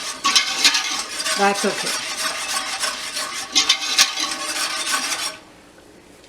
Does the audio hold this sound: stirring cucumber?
yes